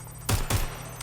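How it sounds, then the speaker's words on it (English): Two sharp, loud gunshots in the video game Watch Dogs: Legion fire in quick succession, followed by a fainter third burst, over a low steady hum. "Taking fire!"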